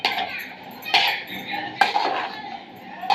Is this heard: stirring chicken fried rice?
yes